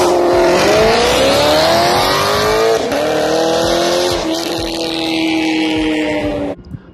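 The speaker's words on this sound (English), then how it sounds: "The PPE equal length headers, and they sound like this." A Lexus RC F V8 fitted with PPE equal-length headers revs hard up close, its loud, smooth exhaust note climbing in pitch, easing slightly, then holding high before cutting off abruptly.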